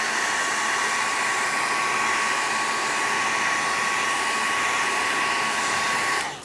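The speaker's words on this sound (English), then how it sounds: "I'm gonna use my hair dryer. So sorry for the noise" A hair dryer blows loudly and steadily with a constant whine, drying a paper craft Mickey Mouse hat, running alone for several seconds before cutting off at the end.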